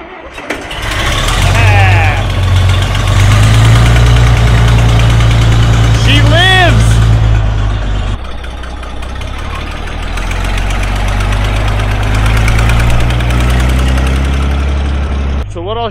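An antique John Deere 4020 tractor engine runs steadily with its PTO engaged, a loud continuous low rumble with a brief squealing whistle partway through, while people talk nearby.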